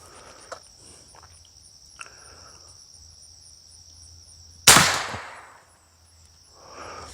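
A single sharp report from an FX M3 precision air rifle in 6.35 calibre with a 700 mm barrel, fired at a 40 m target outdoors; one loud crack with a short decay, surrounded by faint crickets and a quiet voice.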